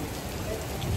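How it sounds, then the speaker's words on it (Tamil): Rain pouring steadily on a rainy day in Hong Kong, a dense wash of drops hitting surfaces with a low rumble beneath, close and continuous and uninterrupted by voices. "மழை அடிக்குது, மழை வேற அடிக்குது."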